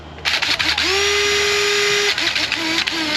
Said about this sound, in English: I'm gonna start revving my impact gun at night.